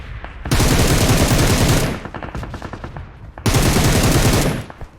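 Automatic gunfire in PUBG Mobile as a player shoots at an enemy: two loud sustained bursts of rapid shots, the first about a second and a half long and the second after a short gap, with scattered game sounds between them.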